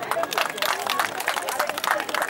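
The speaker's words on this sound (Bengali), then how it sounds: "জোরে একটা হাততালি হবে।" An audience at the Ramganga gram panchayat rural village fair of 2024 claps in a dense, continuous burst of applause with a steady crowd murmur.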